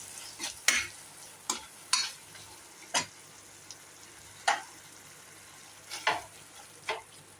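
Mushroom pepper fry cooking in a pan as curry leaves go in, a quiet background sizzle broken by about eight separate spoon scrapes and taps at an uneven pace, close and without speech.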